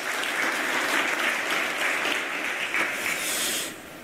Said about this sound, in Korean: 큰 박수로 부탁합니다.